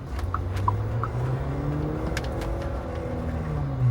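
Interior engine and road noise of a Tang 300 hybrid car accelerating, a steady low hum with rising tonal whine building smoothly over a few seconds, close and moderately loud, with no talking.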